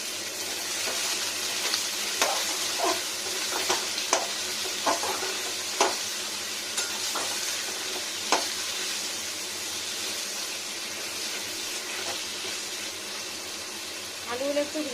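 Potatoes frying in oil with bay leaf for a vegetarian moringa flower dish, a continuous sizzle broken by sharp clinks and scrapes of stirring at irregular intervals.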